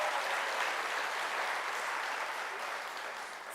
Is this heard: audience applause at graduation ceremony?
yes